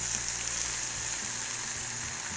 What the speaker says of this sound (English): Let's see how these onions are doing. All right, they are browning.